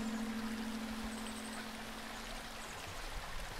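Waterfall water in a video game, a steady, even rushing flow with a low hum, constant and unbroken throughout.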